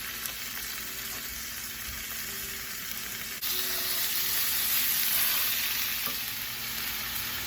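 Garlic, onion and ground beef sizzle in a pan in a steady, close hiss that suddenly grows louder partway through and then holds at that level.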